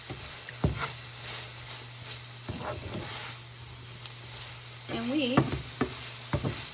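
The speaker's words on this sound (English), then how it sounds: "just another quick stir here" Lemon garlic beurre blanc chicken stirred in a pan, with steady soft sizzling and occasional scrapes of the utensil, and a brief spoken word near the end.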